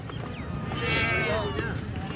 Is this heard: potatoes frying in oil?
no